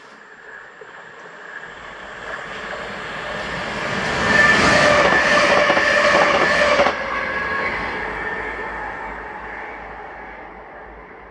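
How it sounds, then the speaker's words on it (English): A ScotRail passenger service to Lanark from Glasgow Central passes through Carluke station, building from a distant rumble to a loud rushing roar with rhythmic clatter mid-clip, then fading away gradually. "this is 2B90, the 1032 ScotRail service to Lanark from Glasgow Central"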